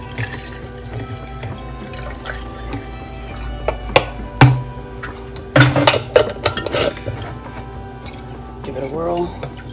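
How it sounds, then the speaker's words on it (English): Water runs and splashes into a glass jar in a home kitchen, with drips and clinks of the container against a sink and faint talk underneath throughout. "You're just filling it up with water."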